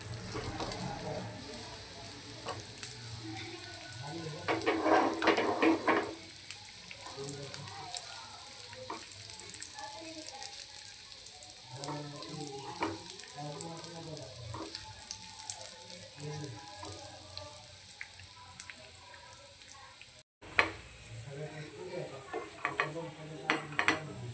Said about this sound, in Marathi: मनुके आपल्याला छान मंद आचेवर असे भाजून घ्यायचे।